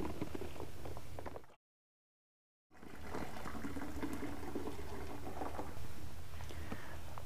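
Grape juice from a wine kit bag pours into a bucket as a steady splashing, gurgling stream that cuts out for about a second, then resumes just as strongly.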